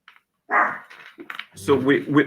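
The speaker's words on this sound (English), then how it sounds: "my dog's barking" A person talks while a dog barks a few times close by, the barks overlapping the speech.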